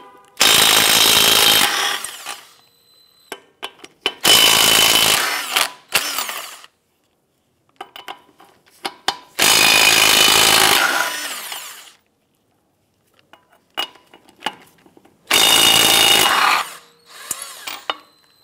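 A power tool with a 21mm socket loosens and removes lug nuts on a 2007-2012 Nissan Versa wheel. It makes four loud, rattling bursts of a couple of seconds each, separated by quiet gaps with small clanks.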